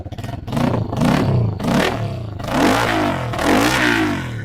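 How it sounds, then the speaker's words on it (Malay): A KTNS TT 150 Classic motorcycle revs its exhaust repeatedly up close, with several rising roars and dips in engine pitch that sound gruff and loud, with no voices over it. "Bunyi exhaust memang dah garang dah."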